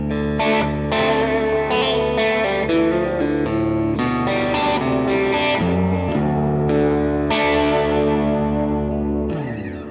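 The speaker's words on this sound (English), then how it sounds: "reverb on two of the three runs in this here, and I've got a quarter note delay on, and that is the tape delay." Electric guitar plays a melodic line through a Line 6 Helix amp model, drenched in reverb with a quarter-note tape delay echo trailing each note, loud and continuous.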